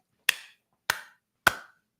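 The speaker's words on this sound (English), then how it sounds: "Round of applause, please." Three sharp, evenly spaced claps ring out alone in a quiet room, each a crisp single hit with a short decay and no crowd behind them.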